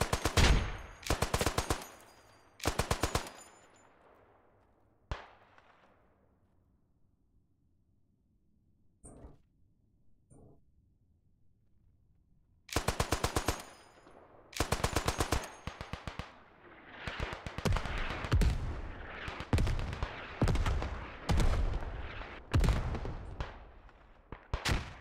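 Heavy machine gun fire in the WWI shooter Beyond the Wire, played on the German Empire side: loud rapid bursts near the start, one isolated shot, faint distant pops, then long sustained volleys through the final half.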